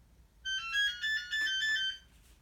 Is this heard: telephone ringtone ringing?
yes